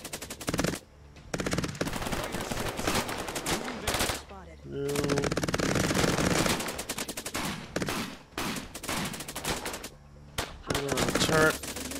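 In the Cepheus Protocol video game, a turret machine gun fires in long rapid bursts separated by short pauses, loud and close, with dense rattling gunfire and someone speaking briefly.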